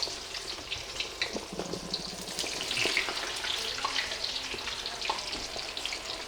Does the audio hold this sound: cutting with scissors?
no